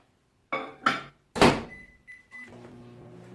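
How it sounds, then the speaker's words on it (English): Kitchen microwave oven used to warm soap chunk bars: two door clunks and a sharp latch thump, then a brief beep and the low steady hum of the oven starting to run. "So I'm just going to pop over to the microwave."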